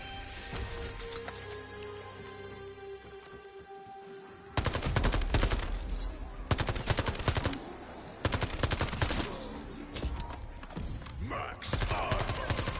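A burst-fire gun in a Call of Duty game, quiet ambient sound first, then loud rapid clusters of shots in repeated bursts with short gaps between them.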